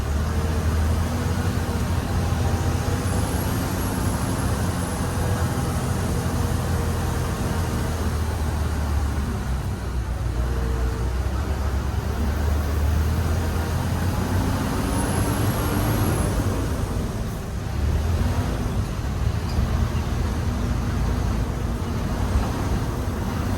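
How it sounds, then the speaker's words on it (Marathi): A bus grinds up a steep ghat road in the Konkan, Raigad, its engine droning low and laboured throughout with steady road rumble and occasional faint high whines, no talk. "आता घाटावर चढतच नाही गाडी."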